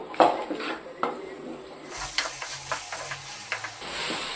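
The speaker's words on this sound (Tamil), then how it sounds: "இப்போ நம்ம சேர்த்துக்கிட்ட காய்கறி எல்லாத்தையும் ஒரு ரெண்டு நிமிஷத்துக்கு நல்லா வதக்கி கொடுத்துருவோம்" Vegetables for a dried fish curry clatter and scrape in a pan as they are stir-fried, with metallic taps and a soft sizzle underneath, close and moderately loud.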